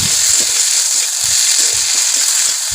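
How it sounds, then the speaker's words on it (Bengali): Chopped green chillies fry in a pan with chicken scraps for a curry, a loud close sizzle overlaid with rhythmic scraping thuds from stirring over a few seconds. "আবার কিছুক্ষণ নেড়ে নেবো"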